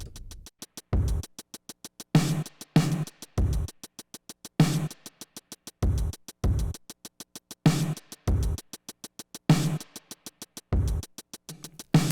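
A punchy Sequential Drumtraks drum machine groove recorded through a Lexicon reverb: booming kicks, snappy snares and rapid ticking hi-hats, washed in reverb, repeating steadily with no voices.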